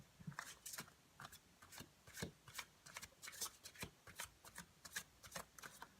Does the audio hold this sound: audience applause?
no